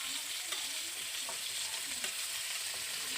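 Ridge gourd, potato and pointed gourd frying together in a pan give a steady, close sizzle with soft stirring scrapes throughout, no voices.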